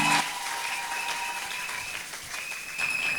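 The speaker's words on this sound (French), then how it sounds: "Applaudissons pour la sœur Léontine." Applause from a church congregation during a Sunday school skit, a steady wash of clapping from the crowd that continues evenly throughout, with sustained tonal sounds in the background.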